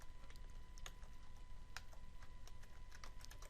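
A command being typed on a computer keyboard while playing Minecraft, a quick run of light, close key clicks in an uneven rhythm over a quiet hum.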